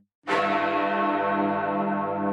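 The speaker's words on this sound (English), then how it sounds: "these quarter bells are followed by the hammer strike on the largest bell, Big Ben" The largest bell, Big Ben, in the London clock tower, struck once by a hammer: a loud, sudden clang that rings on with a long, humming decay.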